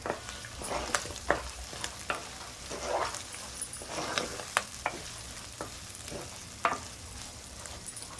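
Green chillies with ginger and garlic are stirred in a pan while cooking a mutton kheema curry, a gentle sizzle broken by repeated sharp clinks and scrapes of the spoon against the metal.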